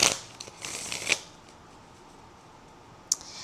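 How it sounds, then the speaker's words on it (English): Crisp riffling and flicking of a deck of oracle cards being shuffled in a few quick bursts, then a quiet pause and one last short snap. "I'm going to go and switch back to this Oracle deck. Let me give this a shuffle."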